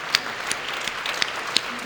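Audience at a social justice anniversary gala applauding: a sustained wash of many hands clapping, with a few sharper individual claps standing out, steady and moderately loud with no voices.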